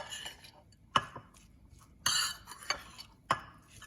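A vegan zucchini patty mixture is stirred in a bowl, giving a few soft, wet scraping strokes with sharper utensil knocks against the bowl's side, quiet and close with no talk.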